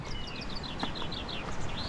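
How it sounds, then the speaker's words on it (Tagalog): Faint, repeated high bird chirps and trills over a steady low rushing background of a flowing river, like distant birdsong beside the water. "Ganda ng huni ng mga ibon."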